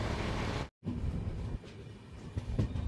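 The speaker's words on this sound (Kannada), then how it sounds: "ನಮ್ಮ ಟ್ರೈನ್ ಈಗ ರಾಯಬಾಗ ರೈಲ್ವೆ ಸ್ಟೇಷನ್ಗೆ" The Rani Chennamma Express rolls into Raybag railway station on platform 1 with a steady close rumble and clatter, broken by a brief moment of silence.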